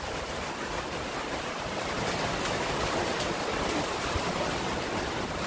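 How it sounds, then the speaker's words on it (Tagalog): Heavy rain pouring down steadily, a dense, even roar of water throughout with no voices. "Napakalakas talaga ng ulan"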